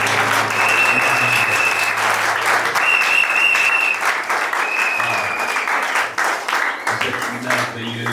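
A church congregation applauds at a worship service. The dense clapping is loud and sustained, with crowd voices and a few cheers mixed in throughout.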